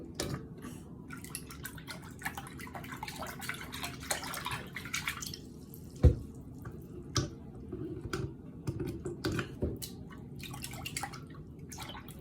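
Fidget toys are washed in soapy water with soft, irregular drips, splashes and sloshing at close range, plus one sharper knock midway.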